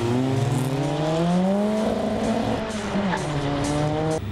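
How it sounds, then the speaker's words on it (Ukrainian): Cars accelerating hard in a 201-metre drag race at a motorsport event produce a loud engine roar climbing through the gears, with a brief tire squeal, sustained and close. "Нині самі організували гонки на прискорення на дистанції 201 метр."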